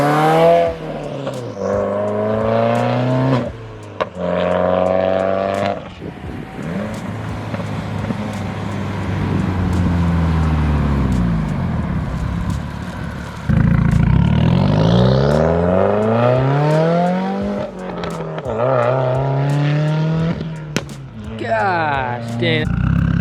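A Subaru WRX with an aftermarket exhaust roars past in loud flybys, its engine note sweeping up and then falling away as the car nears and recedes, with a turbo audible and people talking between passes.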